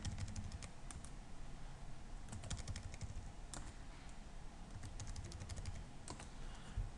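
Computer keyboard keys clicking as numbers are typed into an Excel spreadsheet, quick bursts of close taps with short pauses over a steady low background hum.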